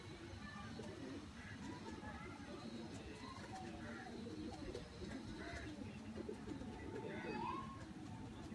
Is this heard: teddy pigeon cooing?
yes